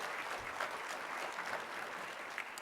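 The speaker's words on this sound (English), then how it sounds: "So join me in applauding for them because they don't get the recognition they deserve." Audience applause at a service coordinators' gathering, a steady wash of clapping hands sustained throughout with no voices over it.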